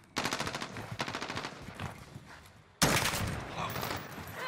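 Automatic gunfire rattles in a Call of Duty game, first in quick repeated bursts, then a pause, then a loud sustained volley that runs to the end, all close and without talking.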